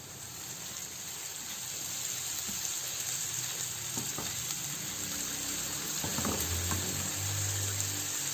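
Ginger garlic paste frying with onions in oil for a mixed dal fry, a steady close sizzle with soft stirring clinks and scrapes running throughout, no voices.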